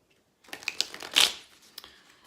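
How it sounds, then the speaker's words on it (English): Tarot cards being shuffled close by, a short burst of crisp riffling flicks and slaps building to a sharp peak, then settling into a few softer taps. "I'm just going to shuffle a couple more times"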